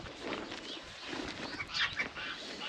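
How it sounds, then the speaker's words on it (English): Busy farm poultry-yard chatter of chickens and turkeys, overlapping clucks and squawks at moderate distance, continuous throughout with no talking. "So there's chickens."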